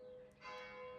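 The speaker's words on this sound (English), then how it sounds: "the bells are chiming at the church." Church bells chiming around eleven o'clock on an island in the Azores, a faint distant ring swelling briefly, alone.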